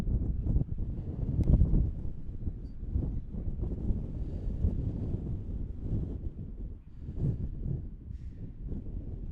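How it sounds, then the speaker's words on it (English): Strong wind buffets the microphone at an outdoor high school baseball field, a steady low rumble that swells in gusts throughout with no talk. "the wind blowing out here at Parsons. I'm sure you guys can hear it."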